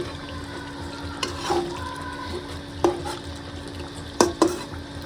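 Meat cooks in a pot over a low gas flame, a gentle continuous sizzle with a faint steady hum and a few sharp spoon or lid clinks near the end.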